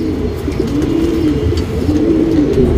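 A breeding pigeon gives soft, low, rolling coos, repeated steadily and close against a faint background hum.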